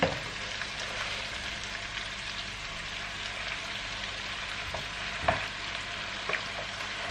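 Spinach fries in a pan at home, giving a steady soft sizzle with occasional light clinks and stirring scrapes, and no talking.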